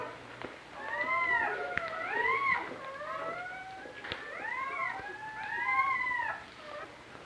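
Newborn puppies whimpering close by, a series of thin, high, wavering cries in overlapping bursts, fairly faint and with no talk over them.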